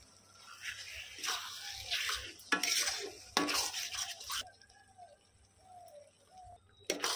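Chili sauce and soy sauce being stirred into chili chicken in a pan, giving scraping, clattering utensil strokes in bursts with pauses between, close and moderately loud with no talking.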